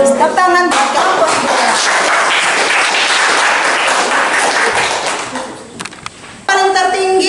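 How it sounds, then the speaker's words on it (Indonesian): Students in a school classroom applaud a group, a loud burst of close clapping heard between a teacher's spoken remarks at the start and end. "Tepuk tangan buat kelompok"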